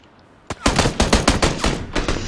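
Video game gunfire in a duo team fight: after a quiet moment, a rapid, loud burst of repeated shots rattles out in a fast, slightly uneven rhythm for nearly two seconds.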